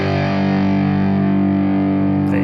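A distorted electric guitar power chord on the top three strings rings out as one thick, sustained chord, loud and steady, with no voice over it.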